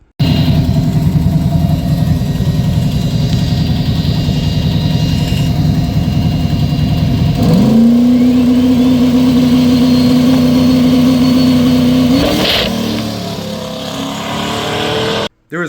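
Big block Plymouth Duster engine with a turbo and a massive exhaust leak, running loud and steady with a rough, chuffing low rumble, then holding a sustained higher-pitched rev for several seconds before dropping back.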